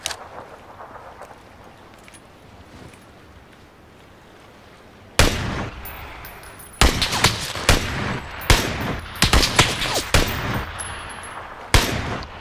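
Gunfire in PUBG, a run of sharp loud shots and bursts starting midway and repeating irregularly, preceded by quieter game ambience.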